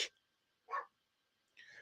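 A dog barks three times indoors, fairly faint, with short gaps of quiet between the sharp bursts.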